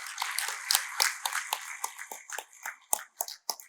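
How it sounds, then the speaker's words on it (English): Audience applause at a university research day ceremony as the chief guest, a professor, accepts a token of gratitude; scattered claps from a nearby crowd, dense at first and thinning into sharper isolated claps toward the end. "Please give a huge round of applause."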